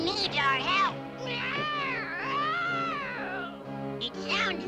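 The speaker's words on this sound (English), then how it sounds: "It sounds like an injured cat." A cartoon cat's long, wavering, pained meows, drawn out and rising and falling in pitch, loud and close with no other sound around them.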